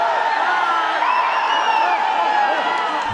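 A large crowd in Kashmir, including children, shouting slogans together in a loud, continuous, reverberant roar with overlapping voices.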